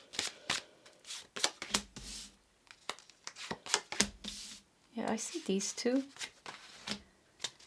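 Tarot cards are shuffled in quick, crisp riffles and slaps, close and clear, with a brief spoken remark partway through.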